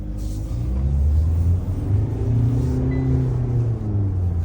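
A Kia Tasman pickup with a 2.2 turbo engine accelerates on the road, giving a steady low rumble and a rising engine drone heard from inside the cabin, with no talking.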